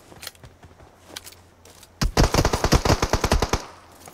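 Rapid gunfire in a shooter video game: a few scattered single shots, then a sustained close burst of about fifteen sharp automatic reports in a fast rhythm lasting roughly one and a half seconds.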